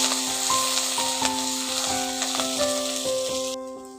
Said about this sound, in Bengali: ওগুলোকে একটু ভেজে নিচ্ছি।